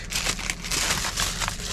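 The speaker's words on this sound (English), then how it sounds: "take out of the plastic bag here," Close, loud rustling and crinkling of a plastic bag as a Jowua center console tray organizer for a 2021 Tesla Model 3 is pulled out of its packaging, in uneven bursts.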